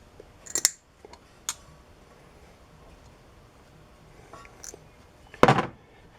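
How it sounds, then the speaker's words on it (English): Pull-start rope cut during a pull-start repair: a few short, separate snips, each a quick crisp clip, the last one louder and fuller, set close by against a quiet background with no talking. "We'll cut off the excess there."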